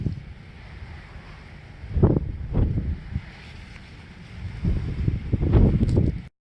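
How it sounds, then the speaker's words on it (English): Gusty wind blows outdoors at an old rail stop, buffeting the microphone in low rumbling surges that swell around the middle and end of the short stretch, with no talking. "It's a little bit windy, but beautiful day."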